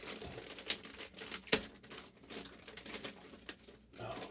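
Crinkling and rustling of packaging as an MSI GTX 1650 low profile graphics card is taken out of its box, with irregular soft crackles and a couple of sharper tears, fairly quiet and close.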